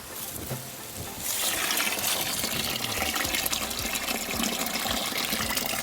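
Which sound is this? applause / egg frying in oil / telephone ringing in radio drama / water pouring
water pouring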